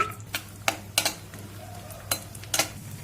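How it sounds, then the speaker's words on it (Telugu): Cashew nuts fry in ghee in a kadai, with soft sizzling under several sharp clinks and scrapes of a spoon stirring against the pan, close and fairly quiet. "జీడిపప్పులు ఫ్రై చేసుకుందాం"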